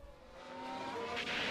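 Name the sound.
F1 race car overtaking in F1 Manager 24 video game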